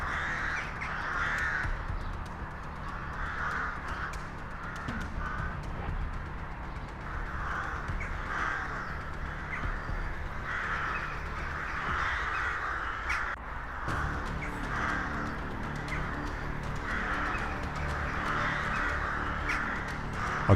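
Large flock of migratory birds, mostly crow-like caws, calling repeatedly over farmland, overlapping harsh calls in an irregular rhythm against steady background noise, with no voices.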